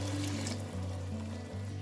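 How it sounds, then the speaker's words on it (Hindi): About a liter of water pours steadily into a cooking pot for matar pulao rice. The rushing flow is fairly loud and continuous, with a low hum underneath and no talk. "मैं 1 लीटर पानी ऐड करूँगी"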